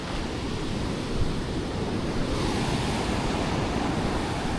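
Ocean waves wash steadily onto a beach in Goa, a continuous broad surf roar with faint wind noise and no voices.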